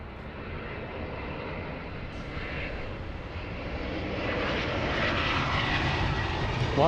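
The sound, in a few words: Delta Boeing 767 jet aircraft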